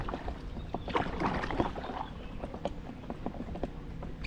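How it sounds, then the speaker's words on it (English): Irregular slaps and splashes of an Aquatec Ottawa kayak hull hitting choppy water in a crosswind, close and uneven, with wind and water noise between the knocks. "Can you hear that hull slap?"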